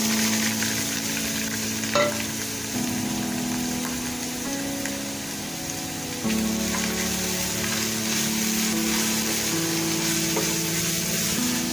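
Boiled chicken filling for chicken kachori fries in a tablespoon of oil, giving a steady, close sizzle with occasional stirring scrapes throughout, and no talking.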